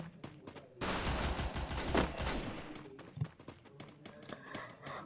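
Gunfire in Free Fire, a burst of rapid automatic shots followed by scattered, fainter single shots and footsteps.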